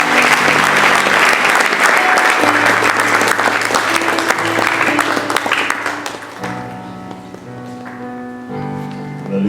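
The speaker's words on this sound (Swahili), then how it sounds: "Let's welcome Bishop for makofi mazuri tafadhali" Congregation at a Nairobi student Christian union Sunday worship service breaks into loud, sustained clapping to welcome the bishop, then fades after about six seconds into a sustained keyboard-like tone.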